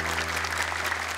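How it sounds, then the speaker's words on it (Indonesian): Studio audience applause at an Indonesian Quran recitation competition show, a steady wash of clapping held under a low constant hum, with no pauses across the short stretch. "Boleh tepuk tangan, 2 kelompok sudah tampil."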